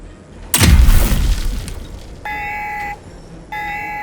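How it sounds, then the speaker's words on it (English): A heavy armored office door blasts apart in a game scene: a loud explosion with shattering debris that decays over a second or so, followed by a steady electronic alarm tone sounding in two blasts. "The heavy door shatters in the office."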